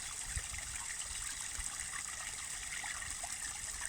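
Small cascade of water trickling and splashing steadily, a continuous bright wash of flowing water with no voices.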